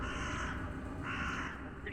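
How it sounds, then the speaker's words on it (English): A crow caws twice inside an echoing stone chamber, two short harsh calls close together and fairly faint, with no talking over them. "A crow."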